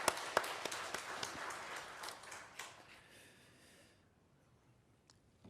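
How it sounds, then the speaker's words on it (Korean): Church congregation applauding the choir, a short round of scattered clapping that is loudest at the start and fades out after a few seconds into near silence. "다시 한번 박수하겠습니다."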